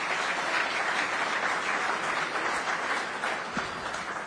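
A seated audience at a business summit applauds, a dense, continuous wash of clapping that stays loud and steady throughout before easing slightly at the end.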